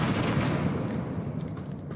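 Confringo fire spell explosion in Hogwarts Legacy, a steady booming, crackling rumble that holds loud throughout and fades slightly at the end.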